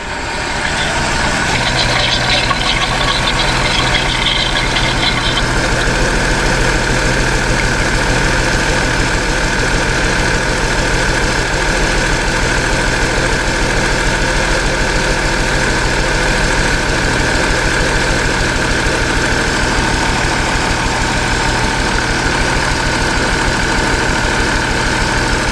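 A Subaru SVX engine idling at close range, loud and steady with a constant low rumble and mechanical vibration throughout, no voices.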